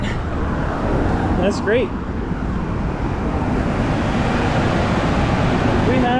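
A broken-into Ford F150 idles after starting, a steady broadband engine and exhaust rumble running loud throughout while someone talks over it.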